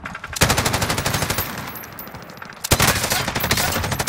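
LMG light machine gun fire in Warzone: two loud, close bursts of rapid automatic shots, the first about two seconds long, then a short lull before the second burst, with no talking.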